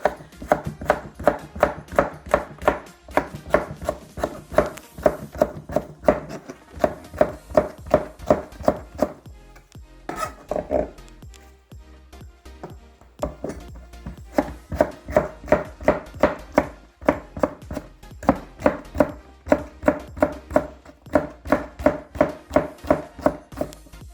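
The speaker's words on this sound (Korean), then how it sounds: "이게 파프리카만 이렇게 넣고 새로 썰어주세요" Knife chopping bell pepper on a cutting board for a spicy Korean skate salad, rapid steady chops in bursts with a short pause midway, close and clear, no talking.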